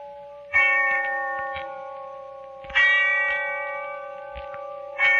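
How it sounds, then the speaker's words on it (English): A church bell tolls as a sound effect in a 1948 radio horror drama, with three separate ringing strikes spaced a couple of seconds apart, each ringing out and slowly fading in an otherwise quiet setting. "when I heard the bell tolling somewhere in the distance"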